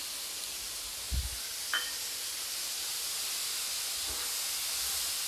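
Roughly chopped tomatoes sautéing in a pan for a spicy chutney, giving a steady, even sizzling hiss throughout, with a couple of faint clicks of a utensil.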